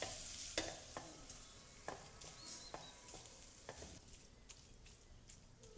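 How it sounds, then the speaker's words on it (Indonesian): A spoon scrapes and stirs a mixture with chicken broth in a pan, with soft sizzling and irregular clinks in a quiet kitchen. "Aduk-aduk sampai tercampur rata."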